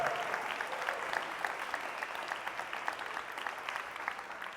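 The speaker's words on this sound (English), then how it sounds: "Let's clap it up for Grammy in the back" An audience applauds for a grandmother at a speaking event, steady dense clapping sustained throughout at moderate volume.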